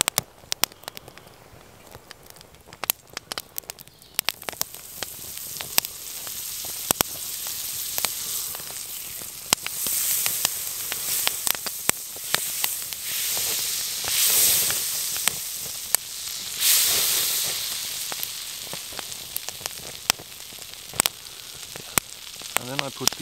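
Butter sizzling in a hot pan, sparse crackles at first that build into a loud, dense spattering hiss which swells and fades in waves.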